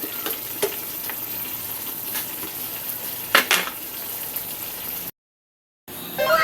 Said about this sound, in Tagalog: Yan, simpleng gisa-gisa na naman